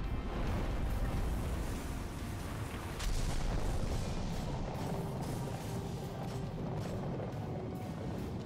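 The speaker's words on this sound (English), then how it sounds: "I only have one rocket left, so I'm only going to shoot one" Heavy booming blasts and rumbling explosions from a rocket launcher fight in the Destiny game, with a sharp burst near the start and a sustained roar of combat noise throughout.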